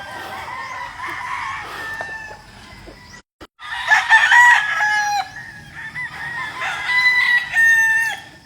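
A rooster crows loudly and close by, two long cock-a-doodle-doo calls separated by a short gap, with soft clucking from other fowl around it.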